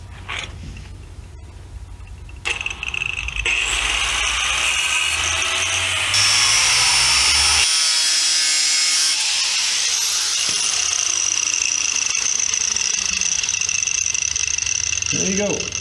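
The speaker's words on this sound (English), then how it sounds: "I'm going to cut straight up so I don't have so much to grind off." Power tool cutting through the steel frame of a Chevrolet S10 pickup, a loud sustained high-pitched whine and grinding screech that shifts pitch as the blade bites, close up, after a brief quieter start.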